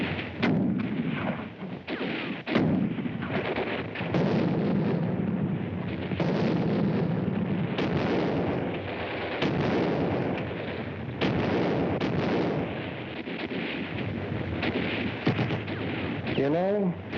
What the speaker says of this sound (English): The veteran German troops bar the way with a crossfire of mortar and machine gun fire.